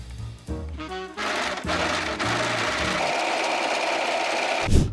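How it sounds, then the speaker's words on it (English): Serger sewing machine stitching a Halloween costume, starting with a few short bursts and then running steadily at a loud, even buzz close by, stopping with a thump at the end. "and then you can slowly get it through your serger"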